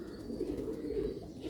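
Sialkoti chuha pigeons cooing close by, a low throaty rolling coo that continues steadily without pause.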